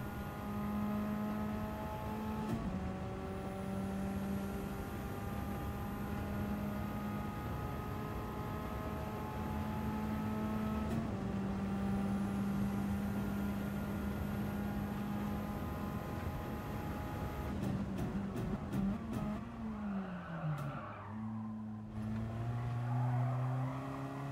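A Radical race car engine at Fuji in a racing video game, a steady high-pitched whine held at near-constant revs with brief gear shifts, then a drop and a climb in pitch near the end, with no voices.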